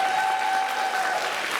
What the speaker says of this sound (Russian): Давайте подарим аплодисменты им.